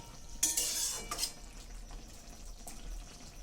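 Maggi noodles being stirred in a pan while they cook, with a burst of scraping and clinking from the utensil against the pan at the start, then a softer, steady sizzle and bubbling.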